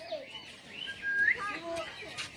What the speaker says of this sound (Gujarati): લાલ પોપટ છે જોઈ શકો છો તમે